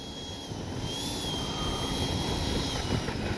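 Freewing 90mm J-10 RC jet with a model afterburner taxiing, a steady high turbine whine with a rising and settling tone over a broad, constant rush, fairly close and alone.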